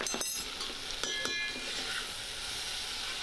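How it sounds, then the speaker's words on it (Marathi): Raw mango pieces sautéing in oil in a pan, with a steady soft sizzle and a few sharp stirring clicks near the start, heard on their own without talk. "आणि आता राहिलेली कैरी घालूया आणि कैरी तेलामध्ये छान परतून घेऊया."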